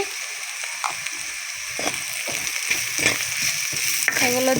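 Ground chili, coriander and cumin sizzle steadily in a hot pan, close and continuous, while a utensil scrapes and stirs through them in short strokes.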